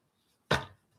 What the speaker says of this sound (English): when I'm done shuffling